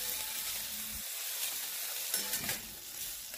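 Chopped tomato sautés in hot oil with garlic and chili for okra bhaji, a steady close crackling sizzle with brief stirring scrapes, running continuously throughout.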